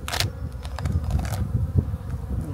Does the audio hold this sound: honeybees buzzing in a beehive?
yes